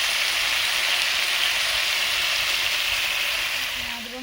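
Ridge gourd and potato pieces frying in oil in a pan give off a steady, dense hiss that stays even and close, thinning slightly at the end.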